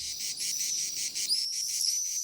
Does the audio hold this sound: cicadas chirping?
yes